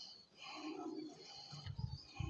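Pigeons at a bird market in Domjur, Howrah, giving soft low coos that swell near the end amid faint background chatter, quiet and close.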